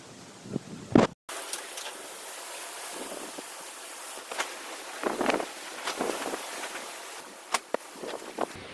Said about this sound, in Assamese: আজি ৰাতিপুৱাৰ পৰা এনেকৈ বতাহ দি আছে